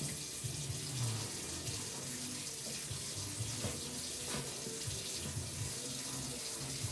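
Water runs from a sink tap onto a winter sowing container set on a tray in the sink, a steady, moderate splashing flow that lasts throughout with no talk.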